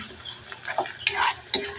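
A utensil stirs sautéed shrimp paste (alamang) with green chili in a frying pan, giving a few close scraping clinks over a soft sizzle.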